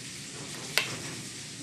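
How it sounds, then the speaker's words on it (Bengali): Pointed gourd and shrimp cooking in a pan, a steady broadband sizzle with one brief stirring clink near the middle, fairly quiet and without voices. "এই যে আমার রান্না হচ্ছে, আমি এটাতে পটল চিংড়ি বসিয়েছি।"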